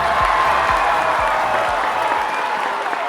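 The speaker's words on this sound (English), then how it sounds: "Crowd goes wild" Studio crowd applause for a podcast-style talk show opening, a dense steady wash of clapping at close range, with a faint rhythmic thumping beat underneath.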